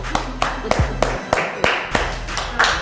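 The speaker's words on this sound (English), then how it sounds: "Let's clap it up for Miss Bush" A small studio audience on a cooking competition show claps in a steady, even rhythm, each clap a sharp, close smack repeating roughly three times a second, with no voices.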